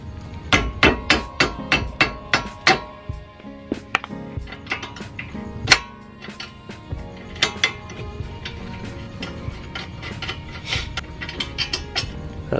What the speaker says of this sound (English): I've just got a 14mm wrench now on the back of the hub to remove the caliper bracket.